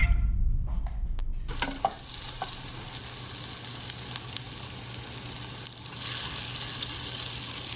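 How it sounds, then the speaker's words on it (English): Bacon sizzling and crackling steadily in an oily pan while being stirred, with a few sharp utensil clatters at the start, then a dense, continuous fry close by. "We just want to keep cooking and stirring it until everything changes color."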